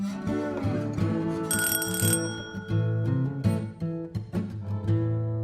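A doorbell chimes brightly over ongoing music, a short shimmering ring that quickly fades as the backing continues.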